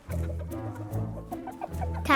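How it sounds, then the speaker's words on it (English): Chickens cluck close by in a steady run of short, throaty calls that repeat and overlap, with a sharper squawk near the end. "Time to feed the chickens."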